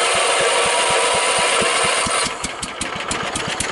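A Kohler K141S single-cylinder engine on a Bolens Husky 600 garden tractor fires up and runs with a loud, steady, rapid thumping beat that shifts slightly in tone toward the end.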